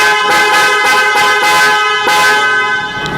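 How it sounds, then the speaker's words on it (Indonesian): Original Japanese-made Mitsuba horn fitted to a Toyota Innova Venturer, blasting in a string of loud, close honks, several short toots followed by a longer held blare. "Klakson kita pakai Mitsuba yang Proudhound."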